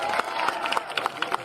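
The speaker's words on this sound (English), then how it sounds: "Please give all of our elected officials a round of applause." Audience at a mayoral inauguration in Dolton, Illinois applauds elected officials, a steady wash of crowd clapping with scattered sharper claps throughout, moderately loud and without talk.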